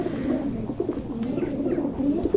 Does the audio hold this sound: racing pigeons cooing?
yes